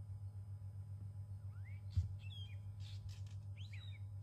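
Fork-tailed drongos harassing an eagle give thin, squeaky squawks and chirps, scattered irregularly over a few seconds at a distance and quite faint, above a steady low rumble.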